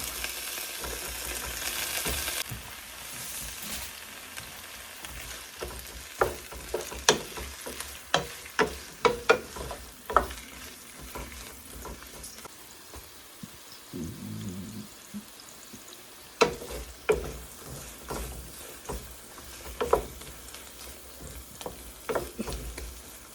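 Drained brinjal (eggplant) pieces fry in hot oil in a pan for pickle, a steady sizzle running throughout with repeated scraping strokes and clacks of a spoon stirring, sometimes sharper and louder, with no talking.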